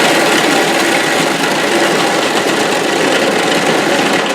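A StreetFood KS 158 shaved ice machine runs steadily, its motor giving a loud, continuous rumbling drone with a rattling, vibrating quality throughout and no pauses.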